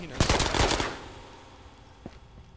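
Gunfire in the VR video game Ghost of Tabor: a rapid burst of loud automatic shots lasting under a second, fading into a quieter tail, with one fainter single shot or impact following shortly after.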